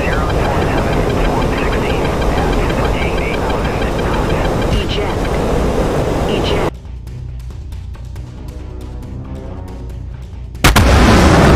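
Missile blasts and heavy booms rumble through a combat flight video game as an F-22 engages an SU-35, with loud dense noise that cuts abruptly to quieter clicking, then surges again, while voices talk over it.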